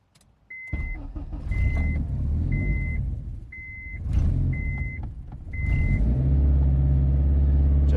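A 2001–2005 Honda Civic engine cranks and fires through a newly installed push-to-start button, with repeated chime beeps, then settles into a steady close idle rumble.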